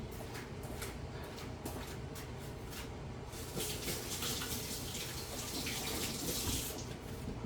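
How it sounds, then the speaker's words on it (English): A kitchen tap runs steadily while sticky garlic is rinsed off hands, a continuous nearby splash that grows a bit louder and fuller halfway through. No speech. "Let me go rinse because it's sticky."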